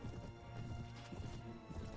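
In the Warband mod Prophesy of Pendor, a Nordor horse gallops with rapid, continuous hoof clip-clops close by, set against a low, dense game background rumble.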